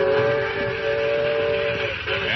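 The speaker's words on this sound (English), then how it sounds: "do you hear that whistle?" A steam train whistle from a vintage radio commercial sounds as a loud, sustained two-tone blast lasting about two seconds, slightly muffled and lo-fi.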